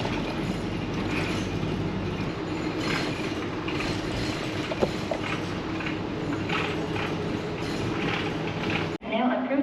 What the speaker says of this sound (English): Found a train.